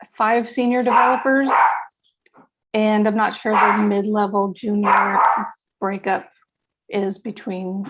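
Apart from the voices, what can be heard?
dogs barking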